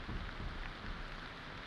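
Steady rain in the video game Aloft hisses evenly and continuously throughout, a broad soft wash with no voices.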